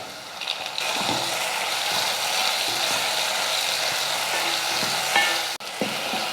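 Onion and tomato sauté in a pan for mushroom gravy, a steady close sizzle broken by rhythmic spatula scrapes and clinks against the pan.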